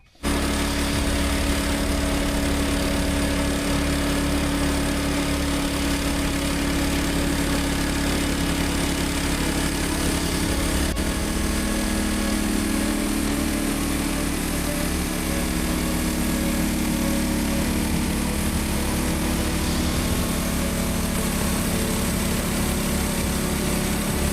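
The engine of a sawmill stacking machine runs steadily and loudly for the whole stretch, a constant mechanical drone with a slight wavering mid-tone and no pauses.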